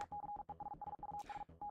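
Short electronic Morse code beeps in the video game Deus Es Machina, a steady single tone keyed in rapid dots and dashes with tiny gaps, fairly quiet over a low rumbling backdrop, briefly joined by a hissy burst near the end.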